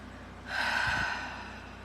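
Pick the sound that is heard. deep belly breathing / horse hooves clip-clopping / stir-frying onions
deep belly breathing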